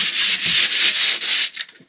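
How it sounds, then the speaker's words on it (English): Steady hand sanding strokes rasp back and forth inside a VW Crafter camper van during an overhead storage tear down, close and loud in repeated rhythmic passes, trailing off at the end. "Whilst Rebecca is busily sanding away and making this area all good"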